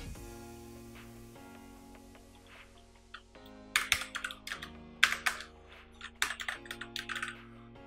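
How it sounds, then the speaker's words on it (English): Close computer keyboard typing comes in short bursts of crisp key clicks over quiet background music, starting after a few seconds and continuing in irregular clusters. "let's type your text here"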